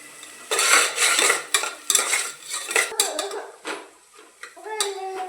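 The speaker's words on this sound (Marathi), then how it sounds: "आता आहे ना चांगला परतून घेते मी कांदा, जरा ब्राऊन करायचा." Onion being stirred in a pan until brown, heard as loud, close scraping and clattering of a metal spoon against cookware over a light sizzle, in irregular bursts without speech.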